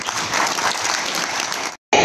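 A room of people applauds at a government ceremony where the chief minister hands appointment letters to dentists and medical officers; the clapping is loud, dense and steady, cuts out for a moment, then comes back at full strength.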